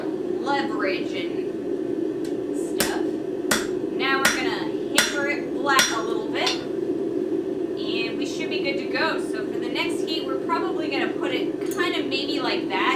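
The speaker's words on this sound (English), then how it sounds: "Now we're gonna hammer it flat a little bit." Sharp metallic hammer strikes ring out as steel is flattened at a blacksmith's forge, a series of irregularly spaced blows over a steady hum of forge blower noise, with someone talking intermittently between them.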